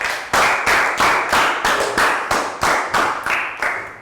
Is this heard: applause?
yes